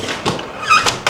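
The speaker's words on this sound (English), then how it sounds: "Closing the door." A bedroom door at the Travellers Rest in Waterloo is pushed shut, giving a soft thunk followed by a couple of quick knocks and a light latch click, close and alone.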